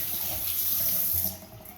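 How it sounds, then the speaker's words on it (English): A bathroom sink tap runs steadily while hands are washed, a close, hissing stream of water that eases slightly toward the end. "I'm gonna wash my hands"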